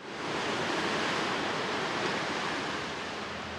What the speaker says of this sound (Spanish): Fantástica vista del mar, pegando contra las rocas aquí, que hay bastante movimiento de aguas hoy